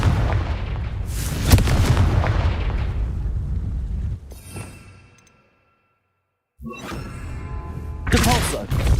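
A Confringo blasting spell goes off in Hogwarts Legacy with a loud, booming explosion and a rumbling tail. It cuts to a short silence, then more crackling blasts and impacts follow.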